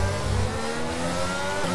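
Race car engine in F1 22 accelerating hard, a steady loud mid-pitched engine drone with rising harmonics and no voice over it.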